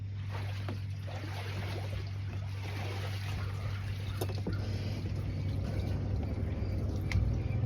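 A small boat on the water carries people on a short ride, its motor giving a steady low hum with faint water splashes and trickles over it, moderately distant and even throughout.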